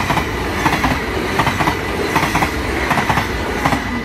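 A train passing through Nieuwstadt, loud and close, with steady rumble and rhythmic clickety-clack of wheels over rail joints, no voices.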